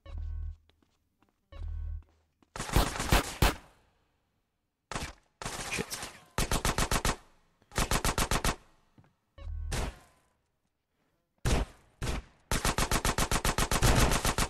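Shotgun and other gunfire in GTA San Andreas: a few heavy single booms followed by tight rapid bursts of loud shots separated by silent gaps, close and punchy with no talking over it.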